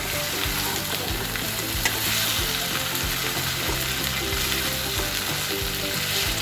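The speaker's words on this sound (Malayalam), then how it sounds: "നമുക്കൊരു 2-3 മിനിറ്റ് ഇതിനകത്തിട്ട് ഇളക്കാം" Chicken 65 pieces fry in a pan with garlic, ginger and masala as they are stirred, a steady loud sizzle with scraping stir strokes, close and continuous, no talking.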